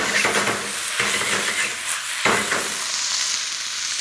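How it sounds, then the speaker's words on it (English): Beef stroganoff is stirred in a frying pan, its steady sizzle broken by a few scraping strokes of the spoon against the pan, close and with no one talking. "Just stir that through."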